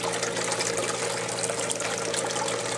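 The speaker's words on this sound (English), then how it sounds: "And the water's coming down the sluice." Water flows steadily down a Prospectors Choice 19A2 finishing sluice box, a loud, even gushing rush that holds without a break.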